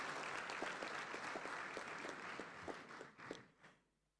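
An audience gives a pastor a round of applause at a family values conference, a dense burst of clapping that holds steady and then tapers off into quiet within a few seconds.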